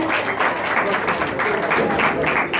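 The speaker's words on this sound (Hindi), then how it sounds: "जोरदार तालियां ग्रुप नंबर 1 के लिए" A church audience at a Christmas program applauds group number 1: dense, steady clapping from many hands, loud and close throughout, with a few voices mixed into the crowd noise.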